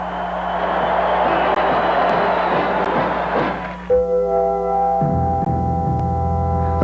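Large crowd cheering at a Rev. Moon rally, a loud, dense roar of many voices sustained for about four seconds, then cut off and replaced by steady tonal music.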